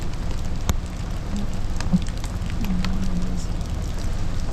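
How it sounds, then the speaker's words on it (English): Steady rain patters on a surface in a continuous hiss, with a few sharper drip-like taps standing out and no voices. "A rainy, disgusting day."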